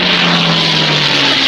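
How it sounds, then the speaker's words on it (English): A propeller plane sent up by the judges at a broad jump event drones loudly overhead, a steady engine hum with a strong low tone running throughout. "the judges have sent a plane up"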